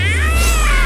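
A cartoon cat lets out one loud, drawn-out meow that wavers in pitch and fills the short moment on its own.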